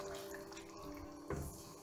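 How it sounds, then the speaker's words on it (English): About 300 ml of water goes into chicken curry in a pressure cooker: a faint, soft trickle and splash with one brief louder slosh near the end, over low background noise. "now we're gonna add our 300 milliliter of water"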